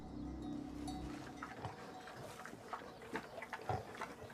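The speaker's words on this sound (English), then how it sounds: "Pigs and cows, sheep and goats, domestic animals." Pigs grunt among other domestic animals, a string of low, snuffling grunts that come in short bursts, moderately close and fairly faint over a quiet background.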